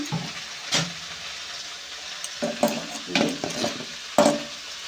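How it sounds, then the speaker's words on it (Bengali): Spice paste with turmeric and a little water being stirred in a hot pan for a fish and five-vegetable chorchori, with a steady sizzle broken by repeated scraping stirs and clinks of the spoon. "কষাতে থাকো মশলাটা একদম জলে একদম যেন মিক্স হয়ে যায়"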